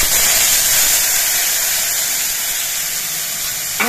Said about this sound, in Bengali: আমি হাফ চামচ হলুদের গুঁড়ো জলে গুলিয়ে রেখেছিলাম, সেই হলুদের গুঁড়োটাই তেলের মধ্যে দিচ্ছি।